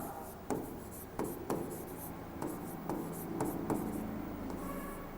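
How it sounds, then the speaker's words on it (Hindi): Pen scratching out a math solution on paper or a board, a close, steady run of rubbing strokes with regular taps as each word or figure starts. "यहाँ पे लिखेंगे हल"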